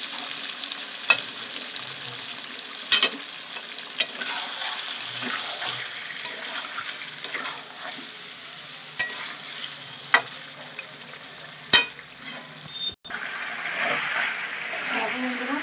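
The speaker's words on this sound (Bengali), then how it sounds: "দিয়ে আমি এবার ভালো করে কষিয়ে দেবো" Meat sizzling and being stirred in a pan after a splash of spiced water, a steady frying hiss broken by sharp spatula scrapes and clacks, close and moderately loud.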